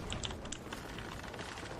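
Quick, light keystrokes from a computer keyboard come through a live microphone during a Sea of Thieves game session, faint and fast, with soft background noise and no talking.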